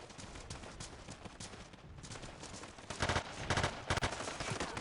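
Automatic weapons fire in Battlefield 2, faint rapid gunfire bursts that grow louder and denser toward the end, no voices.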